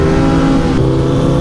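A motorcycle riding past on a road, its engine revving loudly up close with a brief pitch shift as it goes by, no talk.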